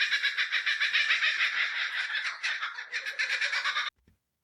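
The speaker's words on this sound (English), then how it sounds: "You hear the distant cackle of a kookaburra, Australia's famous laughing bird." A kookaburra, the Australian laughing bird, gives a loud, rapid rolling cackle of repeated raucous notes, building and wavering for almost four seconds before stopping abruptly into silence.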